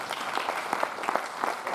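An audience at a Hindi poetry recital (kavi sammelan) claps in a lively, dense round of applause, with individual claps standing out in the steady crowd noise.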